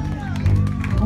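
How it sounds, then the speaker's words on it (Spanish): Wedding guests clap and cheer loudly for the groom during a garter removal, a dense burst of crowd applause with chatter and music mixed underneath. "Esos aplausos, por favor, no se oye para el novio."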